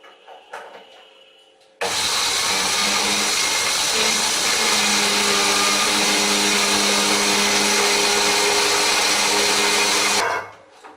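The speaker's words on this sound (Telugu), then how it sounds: "దీనిలో ఉప్పు, జీలకర్ర వేసి మిక్సీ చేద్దాం." A mixer grinder whirs loudly and steadily for about eight seconds, grinding fried dry prawn heads with salt and cumin, then cuts off abruptly.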